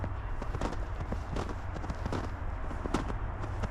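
Footsteps crunching through snow in a park during a snowstorm, with an irregular run of soft close steps over a low steady background rumble.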